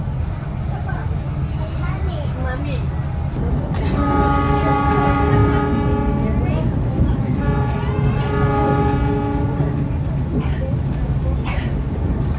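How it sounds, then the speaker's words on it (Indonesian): The Pangandaran Panoramic passenger train slows and stops at Purwakarta station, its horn sounding in two long tonal blasts over the rumble of the rails, with people talking nearby. "kereta api Pangandaran Panoramik akan berhenti di stasiun Purwakarta juga ya, untuk menaik turunkan penumpang"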